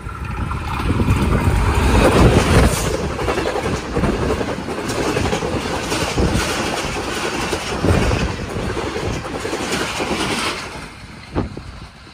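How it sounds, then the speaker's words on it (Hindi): The Hazara Express rushing through the Lalamusa level crossing at speed, a loud continuous rolling roar with rhythmic wheel clatter that fades near the end, close by. "अब हज़ारा एक्सप्रेस आ रही है और लीड पर है P H twenty eight three one seven"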